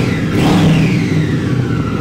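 A Triumph Scrambler 1200 XC motorcycle engine runs loud and close, its low rumble climbing in a brief rev with a rising whine, then settling into a steady idle.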